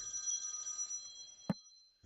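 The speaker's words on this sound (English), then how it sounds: "Let's just deal with this phone call." Telephone ringing faintly during a poker live stream, a sustained electronic ring tone lasting about a second, then a brief click and quiet.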